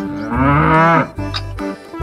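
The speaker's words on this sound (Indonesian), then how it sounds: "rupanya ini kerbau" A water buffalo gives a loud, drawn-out low, about one second long, followed by a shorter, quieter second call. It is close by and heard alone.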